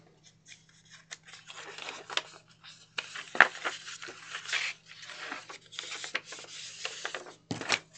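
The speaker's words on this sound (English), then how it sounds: "I'm just going to fold and burnish" Scored file folder cardstock is folded and burnished along its creases: close, dry scraping and rubbing strokes in short irregular bursts over a faint steady hum, with a sharper crisp pass near the end.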